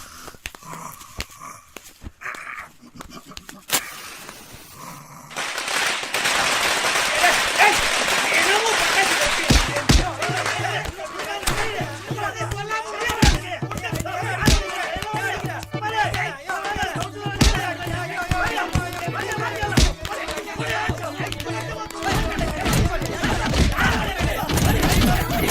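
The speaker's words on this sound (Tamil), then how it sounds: "போய் பட்டாசு வைக்கலாம்." Firecrackers go off in a long, dense burst of rapid crackling pops, with a rhythmic low pounding and voices underneath.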